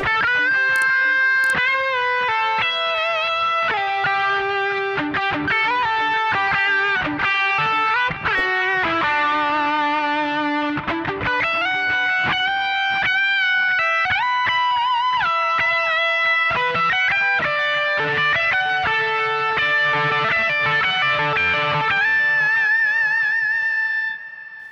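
An electric guitar plays a solo through delay, a little reverb and two stacked overdrives, J-Ray and Moonshine. The melodic phrases are bright and sustained, with quick runs and bends played alone over roughly 25 seconds.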